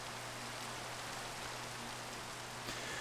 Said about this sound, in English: And you can hear rain in the background while the credits roll.